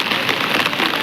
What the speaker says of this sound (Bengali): এখনো বৃষ্টি থামার নাম নেই